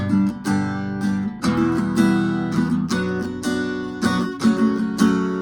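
Steady rhythmic guitar strumming, chords struck repeatedly at an even pace, close and clear with no voices.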